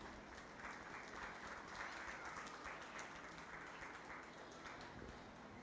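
An audience in the show ring at a 4-H county fair meat goat show claps in continuous, even applause that holds steady and fairly distant for the full stretch.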